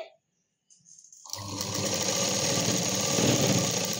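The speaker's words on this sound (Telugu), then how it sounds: "ఇప్పుడు దీని రివర్స్ చేసి మళ్ళీ వెనుక నుండి ఇంకొక స్టిచ్ వేసుకుంటున్నా." Sewing machine stitching sleeves onto a ready-made dress, starting after a brief quiet moment and then running steadily, a loud close continuous mechanical whir with no voices.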